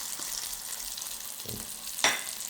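Tilapia fish fries in a pan with a continuous soft sizzle, broken by a couple of brief stirring or turning scrapes near the end.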